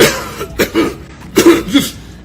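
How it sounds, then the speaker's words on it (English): A run of harsh, close coughs in quick bursts, one after another, with short pauses between them and no talking. "I start coughing"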